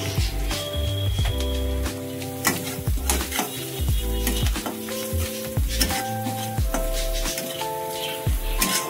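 A shrimp stuffing mixture sautés in a pan with a soft sizzle while a utensil repeatedly scrapes and clinks against the metal, irregular stirring strokes and knocks close by.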